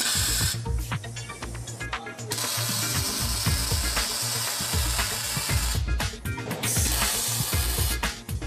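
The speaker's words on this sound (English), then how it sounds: "The corners are welded manually to hold the pieces in place." Corners of a steel wood-burning stove chamber are tack-welded by hand in a factory, with dense crackling and ratcheting mechanical bursts that stop and start over steady shop noise.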